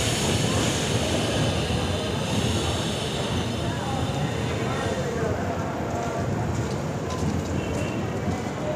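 A passenger train from Asansol to Puri pulls into Adra junction, a loud, continuous rumble of wheels and carriages heard from on board, with voices faintly mixed in.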